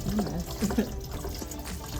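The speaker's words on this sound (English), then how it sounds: "So you have to open it and you have to fill it with hot water." Hot water pours into the clean-water tank of a home carpet cleaner, a close, steady splashing fill with a few gurgles, faint speech underneath.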